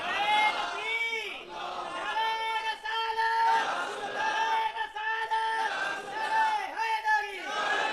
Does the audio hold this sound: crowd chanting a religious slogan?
yes